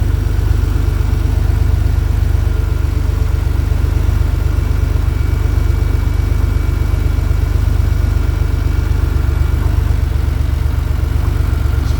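A convertible car's engine idles loud and close, a steady low throbbing rumble that runs unbroken and even throughout, with no talking.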